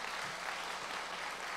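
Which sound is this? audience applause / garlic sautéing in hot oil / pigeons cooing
audience applause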